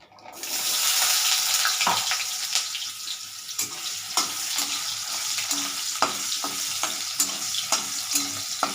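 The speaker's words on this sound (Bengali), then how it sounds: "কড়াই তেলটা গরম হয়ে গেছে এবার আমি আলুগুলো দিয়ে" Potato pieces drop into hot oil in a kadai, bursting into a loud, steady, close sizzle that hisses on with small pops and scrapes throughout, no voices.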